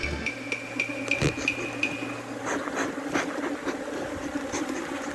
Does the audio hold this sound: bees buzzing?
yes